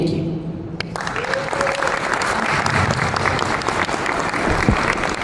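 An audience breaks into sustained applause after a leadership talk, dense and steady clapping that swells in just after the start and continues throughout, with crowd noise beneath.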